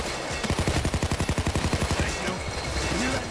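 Rapid automatic gunfire in the video game Payday 2, a loud burst of evenly spaced shots for about two seconds, then fading into quieter scattered shots and game noise.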